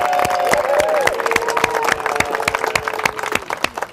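An outdoor crowd at a sand sculpture contest applauds, loud dense clapping with distinct sharp claps up close, a faint whistle or cheer rising over it early on.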